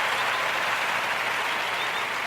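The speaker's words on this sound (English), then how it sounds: "I'm going to give all the Kujichagulia babies a round of applause." A round of applause, a steady, dense wash of clapping that holds at an even level throughout, fairly loud and crowd-like, with no voices.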